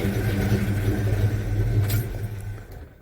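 A 1984 Chevy C10 pickup engine idles close by, a steady low rumble for a few seconds that eases off slightly toward the end.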